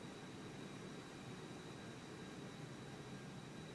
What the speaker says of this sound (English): I'm loving these cabin like noises.